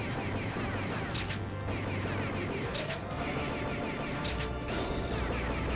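Gunfire in the arcade rail shooter The House of the Dead III, a steady barrage of shots and crashing impacts running continuously over game music through the final stage.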